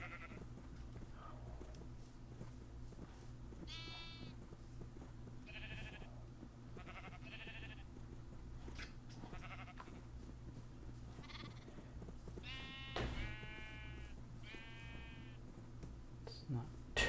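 Sheep in a video game bleat in short repeated cries, some overlapping, over a constant low hum with soft clicks.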